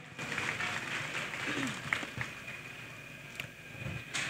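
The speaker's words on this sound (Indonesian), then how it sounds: "Boleh kita sekali lagi berikan tepuk tangan yang paling meriah" Lively applause from an audience at a Samarinda city event, dense clapping filling the room with a faint background hum and murmur beneath it.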